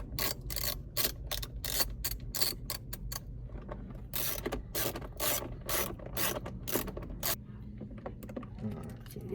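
A ratchet on an extension loosening a 10mm bolt inside a Jeep Gladiator mirror mount, making rapid close bursts of sharp pawl clicks in repeated strokes with short pauses between them.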